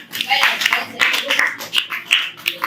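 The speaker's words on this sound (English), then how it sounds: "Give claps to her." Classroom applause for a student in a grade 8 biology lesson, a burst of many hands clapping together, fairly loud and steady for a few seconds, with voices murmuring underneath.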